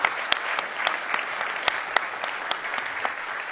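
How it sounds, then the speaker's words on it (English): Audience applause at a stadium announcement event about the Washington Commanders returning to the RFK site: a steady wash of many hands clapping, with sharper individual claps popping through, sustained and fairly close throughout. "Give them a round of applause"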